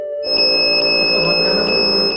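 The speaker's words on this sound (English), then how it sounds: "the machine will warn you by giving an alarm" A Neotherm whole-body neonatal cooling machine sounds its temperature alarm, a steady loud electronic tone with regular bright beeps pulsing about every half second, close and continuous with no speech.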